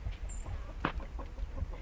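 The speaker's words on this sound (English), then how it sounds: "Private Benjamin is our chicken of the day." A purebred Whiting True Blue hen gives a few soft, short clucks close by against a low background murmur, with one brief high chirp early on.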